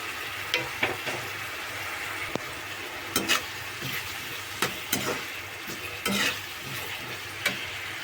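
Onions fry with salt and turmeric in a pan, a soft steady sizzle broken by repeated scraping stirs and clinks of a spoon against the pan.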